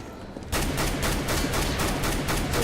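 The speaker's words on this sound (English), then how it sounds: "God is spamming that auto sniper for fun." Auto sniper rifle spammed in CS:GO, starting abruptly after a quiet moment and then firing loud rapid shots in a fast regular rhythm, close and alone.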